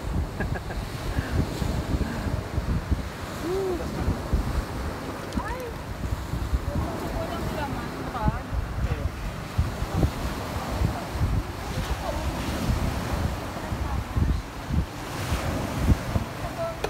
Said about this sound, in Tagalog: Magalaw pala yung dagat.